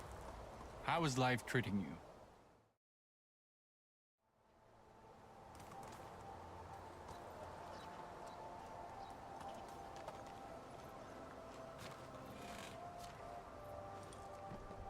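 A horse's hooves clip-clop at a steady trot in the medieval village game Medieval Dynasty. Someone talks briefly before a short silence. The hoofbeats then run continuously over game ambience.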